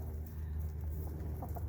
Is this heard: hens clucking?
yes